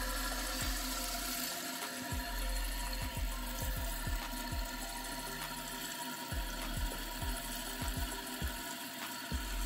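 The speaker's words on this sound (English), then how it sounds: "Then we release the water. Let it refill." Water rushing steadily into a toilet tank refilling after a leak repair, a continuous hiss with a low hum and scattered soft thumps, close by and unbroken.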